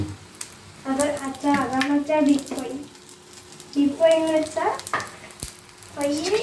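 Food deep frying in plenty of oil sizzles in a continuous bubbling hiss, running beneath two voices chatting close by in a home kitchen.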